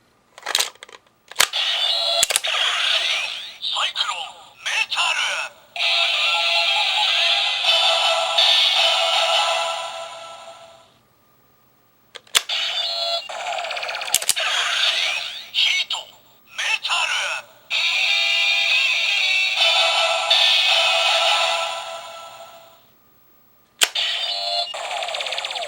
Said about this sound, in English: especially because of how cool the henshin noise is